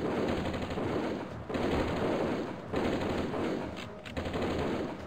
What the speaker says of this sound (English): I'll just stand over here and shoot him when he comes near me.